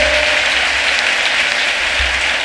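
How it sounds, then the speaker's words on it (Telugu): A church congregation claps loudly together in a dense, sustained burst of applause, with no talking. "చప్పట్లు కొడదామా? గట్టిగా గట్టిగా కొట్టండి"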